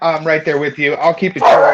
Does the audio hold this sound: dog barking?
yes